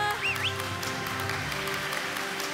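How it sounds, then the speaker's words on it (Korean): Audience applause at a Korean science communication audition award ceremony, a continuous wash of clapping with a brief whistle-like tone near the start and faint background music. "큰 박수"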